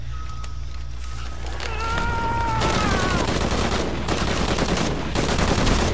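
Gunfire in the video game Shadow of the Tomb Raider, a dense rapid burst of shots that rises and continues steadily after a brief tonal effect, loud and close.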